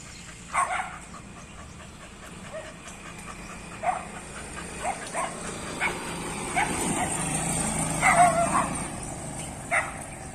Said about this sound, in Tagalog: So, pito na yung aso dito.